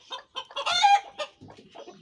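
Farm chickens, a red hen among them, cluck in quick bursts close by, a run of short throaty calls and one sustained squawk, with no talking over them.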